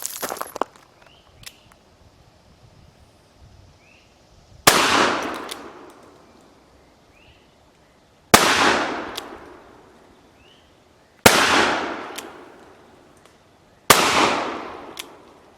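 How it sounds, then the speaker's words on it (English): A Cimarron London Model 1851 Navy cap and ball revolver fired at clay birds outdoors: four loud, sharp shots a few seconds apart, each ringing out with a long echoing decay, after quiet handling noises. "I always feel a real challenge going after these clay birds, no matter what the distance, with a cap and ball revolver"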